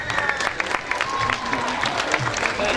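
Crowd at a women's MMA fight event applauding a fighter, a lively patter of clapping from many hands with scattered cheers and an announcer's voice over it.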